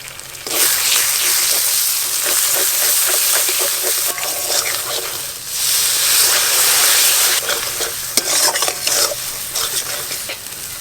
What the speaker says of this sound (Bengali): পাঙাশ মাছ রান্না কিন্তু একটু ঝাল ঝাল করেই করতে হয়, তবেই খেতে ভালো লাগে। শুকনো লঙ্কা বাটা দিয়ে দেবো এবার।